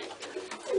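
Soft, low pigeon cooing from a nest, with a few muffled throaty pulses, fairly quiet and close, with a slightly stronger coo toward the end.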